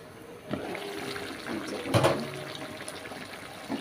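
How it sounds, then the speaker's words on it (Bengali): Water splashes and trickles into a pan of tilapia fish curry with papaya, a short, soft pour with a brief louder gush near the middle, close by and without talk. "এখন আমি এখানে অল্প একটু পরিমাণ মতো পানি অ্যাড করে দেব"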